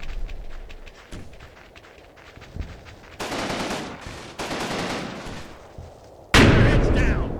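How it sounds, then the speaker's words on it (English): Heavy or medium machine gun fire in the WWII tactics game Combat Mission Final Blitzkrieg: rapid crackling bursts start faintly, then swell into long, loud sustained volleys, with a sharp, louder burst near the end. "We have some kind of HMG or medium machine gun here"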